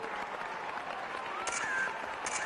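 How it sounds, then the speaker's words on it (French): A live audience applauds a band at a show, a steady wash of clapping held at an even level throughout, with a few brief louder bursts of hands. "Je vous demande d'applaudir très chaleureusement le groupe qui casse la baraque en ce moment."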